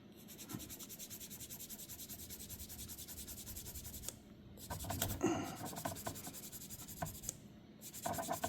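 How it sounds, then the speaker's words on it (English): Small sandpaper rubbing the rough edge of a plastic part on a 1/72 scale model base, making soft, steady scratchy strokes, close and quiet, with brief pauses and a few light knocks. "so I'll just sand it off."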